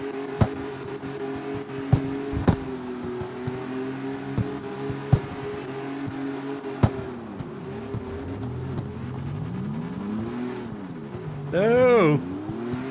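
A BMW drifting in the CarX Street racing game, its engine droning and rising and falling in pitch through the slide, with sharp clicks along the way and a loud tire squeal near the end, under occasional talk.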